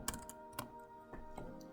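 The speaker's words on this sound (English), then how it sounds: "Now I know that quickly typing in /done blog and anything I type here is going to come up" Quick typing on a computer keyboard, with a few soft clustered key clicks spaced irregularly over a steady hum, heard close but fairly quiet, with no voices.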